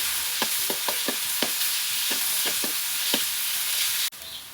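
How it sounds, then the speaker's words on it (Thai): Beef stir-frying with garlic in hot oil, a steady loud sizzle broken by rhythmic scraping strokes of a spatula against the pan, then a sudden drop to a quieter hiss near the end. "พอกระเทียมเริ่มหอมแล้วใส่เนื้อลงไปผัดค่ะ"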